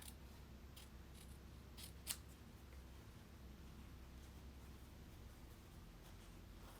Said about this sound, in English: If I cut out one of these leaves.